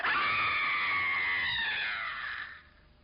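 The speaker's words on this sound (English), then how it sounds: "it lets out a heart-rending screech" A phoenix in a dance film lets out a heart-rending screech: one long, loud, piercing, high-pitched cry that bends slightly, holds for over two seconds and then cuts away.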